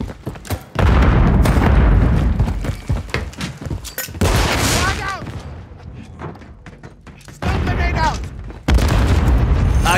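Grenade explosions and gunfire in a Call of Duty Modern Warfare 3 (2023) Hardpoint match, sharp booms and heavy thuds in bursts, loud and close, with shouted voices in between.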